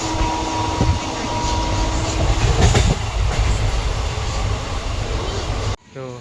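A train rolls into a station on its rails with a loud, steady rumble and clatter, occasional squeals and a brief sharp clank, then suddenly drops away near the end.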